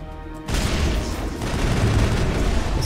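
In the video game Mass Effect, a dense burst of rapid gunfire and explosions erupts after a brief quieter moment, continuing loud and sustained.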